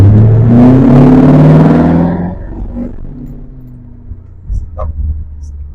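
A Lincoln Mark VIII with a naturally aspirated V8 and an electronic shift kit pulls away under throttle, its engine roar strong and close at first, then dropping as the gear change lands, leaving a lower cabin hum.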